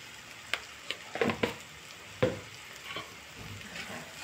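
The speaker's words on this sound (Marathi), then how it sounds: "सर्व छानपैकी परतून घेणार आहे." Mixed vegetables sauté in a pan with red chilli powder, onion-garlic masala, goda masala, turmeric and salt for a traditional Bhogi bhaji, giving a steady sizzle with several sharp scraping stirs and clinks scattered through.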